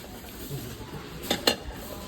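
Secondhand dishes and pots handled at a recycling centre in Norway give two brief, close clinks of ceramic or metal against a quiet room background, with no talk.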